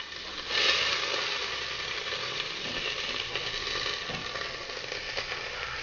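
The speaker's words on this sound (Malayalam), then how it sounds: "പിന്നെ ചൂടായി വരുമ്പോൾ അതിലോട്ട് സവാള ഇടാം" Sliced onion sizzles in a hot pan with fennel seeds, a dense, steady hiss that swells as it hits the oil and then settles into a continuous crackle, with faint stirring scrapes.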